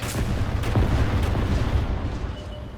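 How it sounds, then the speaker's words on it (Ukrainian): Artillery fire in the tank battle game World of Tanks: a dense, booming rumble of distant shelling and blasts that holds steady for a few seconds, then eases slightly. "Арта, ухиляйся! Артилерія, праворуч!"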